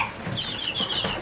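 Russian breed chickens clucking close by, a short burst of overlapping clucks and chatter from several birds, with no talking.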